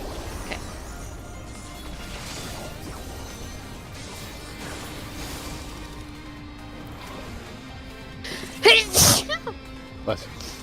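A person sneezes once, sharply and close, near the end, followed by a few brief smaller bursts, over a quiet bed of game music and faint background talk.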